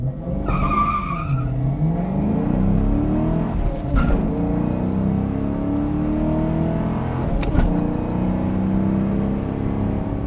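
A Mustang with its stock gear shifter drives past loudly: the engine revs rise and fall through several gear changes, with a brief tire squeal early on and a continuous road and engine roar.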